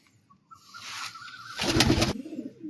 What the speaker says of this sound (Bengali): এটা মাদি পায়রা আছে